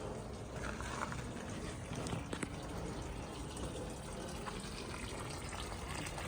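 Boat pump pushing out water, a steady broadband gushing and splashing rush that stays constant and close for the whole stretch, with no talk.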